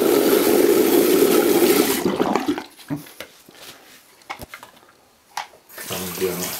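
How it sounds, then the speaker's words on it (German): Water drains loudly and steadily while Dyson V6 vacuum parts are cleaned in a sink, rushing for about two seconds before it stops. Scattered knocks and clatters of handled parts follow, and a voice speaks near the end. "Wasser rauslassen."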